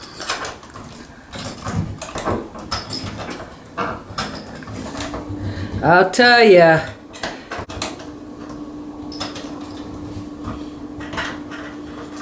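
A jammed door knob is worked on, giving a brief burst of metallic rattling and scraping near the middle, with light handling clicks around it and people talking throughout.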